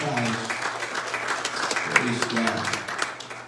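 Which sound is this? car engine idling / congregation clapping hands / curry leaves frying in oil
congregation clapping hands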